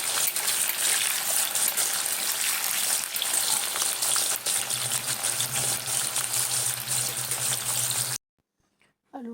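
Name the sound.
potatoes frying crisp in oil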